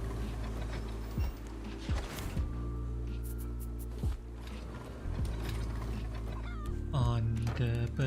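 Chickens on a bird's nest in the Raft survival video game cluck in short bursts over a steady mechanical hum and game background, with a few sharper calls near the end.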